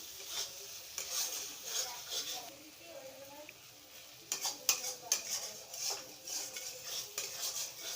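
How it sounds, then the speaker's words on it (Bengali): Spice paste for a pabda fish curry is stirred and fried in a pan, with scraping spoon clicks and light metallic knocks over a soft sizzle, close and fairly quiet. "আরও কিছুক্ষণ ভাজতে হবে। মশলা যত কষানো যাবে ঝালটা তত টেস্টফুল হবে।"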